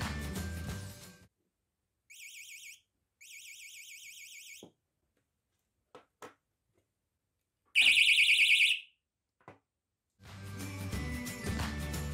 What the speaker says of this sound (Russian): Теперь звук намного тише, самое то для громкости сигнала в палатке.